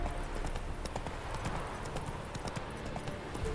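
Roach, the horse in The Witcher 3, clip-clops along in a steady, fast rhythm of hoofbeats that runs unbroken for several seconds, close and clear with no voice over it.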